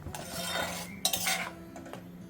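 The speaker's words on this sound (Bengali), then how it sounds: "মশলাটাকে আমি ভালোভাবে কষিয়ে নেব" Spices (salt, cumin powder, coriander powder and turmeric) being stirred and fried in a pan: close metal scrapes and clinks of a utensil against the pan over a low background hiss.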